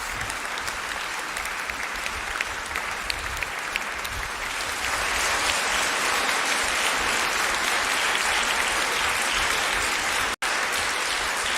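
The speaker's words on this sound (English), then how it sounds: "A round of applause to Charles." Sustained audience applause at a debate, many hands clapping in a dense, steady wash that swells louder partway through and carries on without talk, briefly cut by a short dropout near the end.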